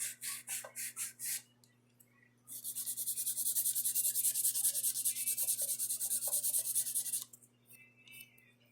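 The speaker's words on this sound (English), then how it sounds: "I am going to take a finer grit file on that one and smooth that out" Fine grit file rubbing over a beaded acrylic nail, starting as a few short separate strokes, then settling into a long steady run of quick back-and-forth rasping close up, and easing off at the end.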